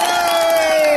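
A crowd at an outdoor international New Year festival cheers and shouts in one loud, sustained burst of voices lasting about a second.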